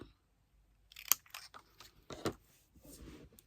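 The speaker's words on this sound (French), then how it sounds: "Mon ciseau. On va couper cette petite étiquette." Small scissors snipping a little paper label during scrapbooking, a few quiet close cuts and crisp clicks against near silence.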